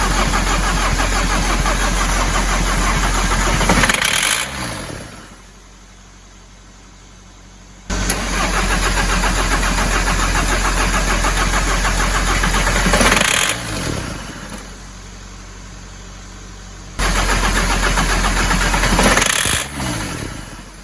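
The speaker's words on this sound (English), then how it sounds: "So I've been trying to start the van and I've realised that the diesel just isn't coming up." A VW T4 Transporter TDI diesel van with no fuel reaching the engine cranks hard in long loud bursts of several seconds each, separated by short quiet pauses, and never catches; no talking.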